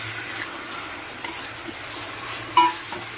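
Ginger, onion, garlic and green chili paste fries with vegetables in a pan, a constant soft sizzle with occasional stirring scrapes and one brief sharper clink near the end.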